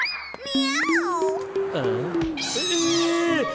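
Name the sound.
cat meowing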